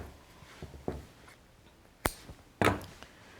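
Fabric-covered clothesline rope piping is cut to length, with soft handling rustles and then two sharp, close cutting snaps about half a second apart.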